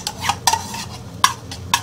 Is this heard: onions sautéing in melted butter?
yes